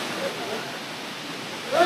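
Low-flowing water from the third tier of Elephant Falls in Shillong, Meghalaya, makes a steady, even rushing hiss heard from some distance, fairly loud and unbroken.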